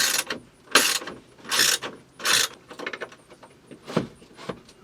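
Metallic clicks and short ratcheting bursts come from a screw being backed out of the sunroof in a 2000-2006 Chevrolet Suburban, loud and close, in uneven spurts with pauses between.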